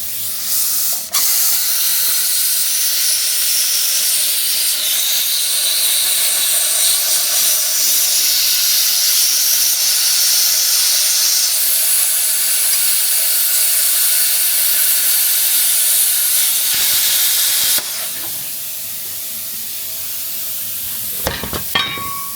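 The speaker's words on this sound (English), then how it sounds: "we'll just cut through this brake rotor and show you what it can do with the thicker stuff as well" An Everlast plasma cutter slicing through a thick steel brake rotor gives a loud, steady, harsh hiss that runs unbroken for about seventeen seconds, then cuts off, leaving a few faint clicks.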